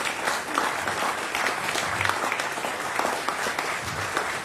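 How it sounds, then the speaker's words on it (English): An audience applauds steadily, a dense wash of many hands clapping throughout, fairly close and sustained. "Let's give them a big round of applause."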